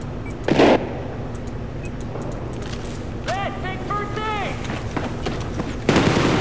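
Gunfire in the video game Battlefield 4 during a 5v5 match, with short sharp shot bursts near the start and end and a steady background hum while a voice talks in between.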